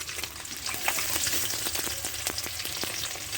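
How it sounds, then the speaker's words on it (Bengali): Eggs frying in a pan in a village kitchen, a steady close sizzle with crackling pops and faint stirring, no voices. "আপনার ডিমটা একটু ভালো করে ভেজে নেবেন"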